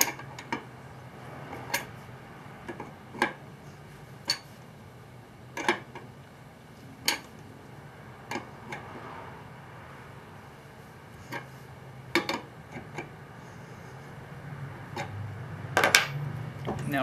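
A 9/16 inch wrench works a push lock air fitting on a Jeep JK onboard air junction box, giving scattered sharp metallic ticks and clinks at irregular intervals, close and fairly quiet.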